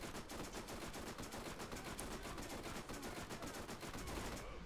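Rapid sustained SMG fire in the video game Borderlands, a dense stream of shots rattling continuously for several seconds at an even, quiet level.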